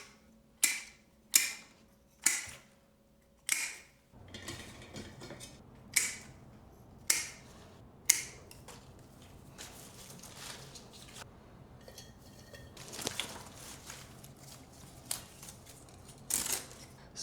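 Scissors or shears snipping through eucalyptus stems while preparing a rose arrangement, a series of sharp, crisp cuts in a steady rhythm, followed by softer rustling and handling of foliage.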